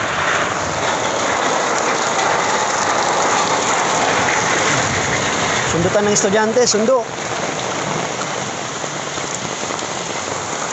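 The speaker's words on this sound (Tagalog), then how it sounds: "Lakas ang ulan, guys." Heavy rain pours down in a steady, loud, dense hiss throughout, while a voice briefly speaks over it partway through.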